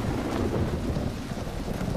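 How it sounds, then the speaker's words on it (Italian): Rain falls steadily outside with a deep rumble of thunder rolling underneath, a continuous dense wash of sound with no voices. "Senti che fuori piove?"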